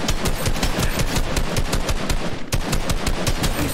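Rapid automatic gunfire rattles without pause in a shooter video game, loud and dense, with sharp shots repeating in a steady stream and no voices.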